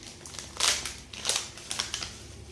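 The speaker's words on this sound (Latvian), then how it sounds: "atveram paciņu" A packet of coral sand being torn open by hand, with three crisp crinkling and rustling bursts of plastic close to the microphone and no talking.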